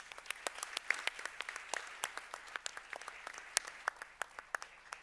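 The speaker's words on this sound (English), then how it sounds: "give a round of applause to our kingdom who's hosting us today" Sparse applause at a conference meeting in Morocco, a small audience clapping in separate sharp claps, fairly quiet and scattered, with individual hands clearly picked out rather than a dense roar.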